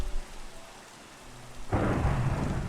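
A Minecraft thunderstorm in an ATM7 Skyblock world: quiet rain, then a sudden loud thunder crack with a rumble that keeps going to the end.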